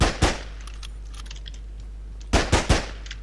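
Gunfire in the video game Of Guards and Thieves comes as sharp, loud shots, a double shot at the start and a quick burst of three near the end, with quiet gaps between.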